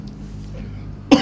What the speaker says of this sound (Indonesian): Jadi batuk gua.